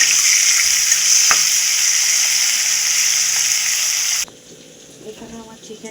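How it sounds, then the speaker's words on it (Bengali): Onion frying in oil in a pan as part of a chicken dish, a loud steady sizzle that runs for about four seconds before suddenly dropping to a quieter, softer crackle with light stirring sounds. "এখানে পেঁয়াজটা আমি ভাজছি, লাল লাল করে ভাজা হলে"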